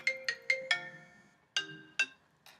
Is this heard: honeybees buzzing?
no